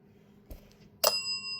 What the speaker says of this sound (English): Ring the bell if you are the ones wanting to talk.